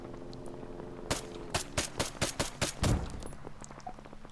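Suppressed VSS Vintorez rifle fire in ARMA 3: about eight sharp, muffled cracks in a quick, slightly uneven sequence, moderately loud against a quiet background, with no talking.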